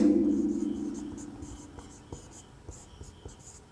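Pen or chalk scratches out numbers during a class 6 whole-numbers maths lesson, a series of soft, close strokes and taps following a brief hum at the start.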